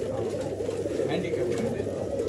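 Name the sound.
pigeon cooing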